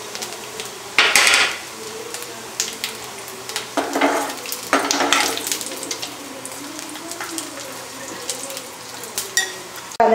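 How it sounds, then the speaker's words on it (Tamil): Sizzling and crackling of cashews and coconut frying in hot ghee for nendran banana payasam, with occasional louder bursts of spattering and some clinking of a utensil against the pan. "எல்லாத்தையும் நம்ம பொறித்து எடுத்துடலாம்."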